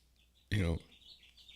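Small birds chirp and tweet outside a window fitted with double-pane glass and a covering, heard faintly and steadily throughout, with a short loud voice-like burst near the start.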